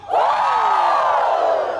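A large outdoor concert crowd answers a performer's call with a loud, sustained collective falsetto shout, rising and then slowly falling in pitch as it holds steady for nearly two seconds.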